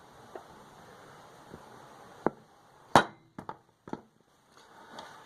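Sharp isolated taps of a hammer dimpling a small metal panel during a Subaru build, a handful of close, irregular knocks with one louder strike, set against quiet room hiss.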